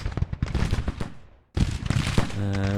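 Crackling infantry musket volleys from Civil War Springfield muskets in a battle strategy game, dense overlapping shots breaking off briefly, then resuming with a steady tone beneath.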